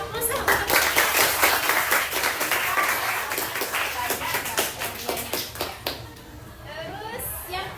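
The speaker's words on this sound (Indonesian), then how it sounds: "Kasih aplaus dong." A class applauds together, sending up a dense burst of many hands clapping at close range that fades out toward the end, with voices mixed in under the clapping.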